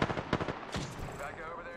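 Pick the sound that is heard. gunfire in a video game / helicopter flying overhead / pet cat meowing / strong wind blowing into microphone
gunfire in a video game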